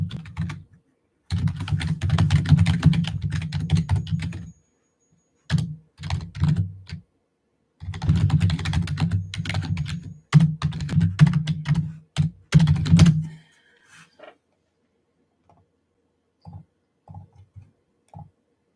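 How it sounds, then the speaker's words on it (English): An old clicky computer keyboard from the 1980s typed on in quick bursts of clacking keystrokes, close and fairly loud, with pauses between runs and a few scattered taps near the end. "I have like one of those like old clickety-clackety keyboards"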